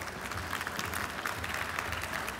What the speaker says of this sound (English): Women in aviation, a nice round of applause for them as they come